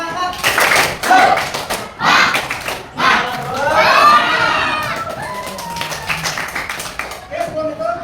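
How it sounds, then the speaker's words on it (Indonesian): Classroom students do a rhythmic spirit clap in short patterned bursts with pauses, mixed with children's shouts and a voice calling out in between. "Bapak tepuk semangat."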